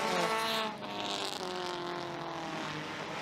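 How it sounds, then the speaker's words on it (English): Race cars roar around the track at Merrittville Speedway, a loud engine howl that briefly dips and then surges again as the cars sweep past, with the sound of the event behind them. "Keeping an eye on those green and white Shepherd racing cars."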